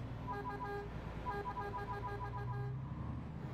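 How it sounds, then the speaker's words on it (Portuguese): A truck horn in a truck simulator game sounds in a run of short, loud, repeated honks over the low drone of an idling engine, then stops near the end. "deixa eu ver se tem buzina."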